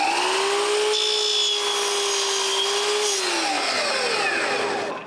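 A power saw cuts wooden door frame pieces at 45 degrees for a small cabinet door, with a loud, sustained whine that holds steady through the cut and then drops in pitch as the blade winds down.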